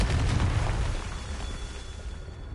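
A Confringo blasting spell explodes in Hogwarts Legacy with a loud, close, booming burst that decays into a rumbling tail over a couple of seconds.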